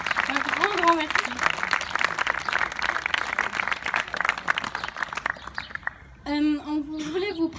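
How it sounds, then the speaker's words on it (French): An audience claps for a village decoration team, dense scattered clapping for several seconds that fades out, then a voice starts talking at the end. "on peut aussi applaudir l'équipe déco"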